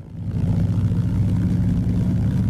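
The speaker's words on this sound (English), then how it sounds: "Listen to the Pratt & Whitney 450 horsepower motor grumble and growl away." The 450 hp Pratt & Whitney radial engine of a DHC-2 Beaver in X-Plane 11 idles with a steady, low, rumbling growl after starting, loud and close, with no talking.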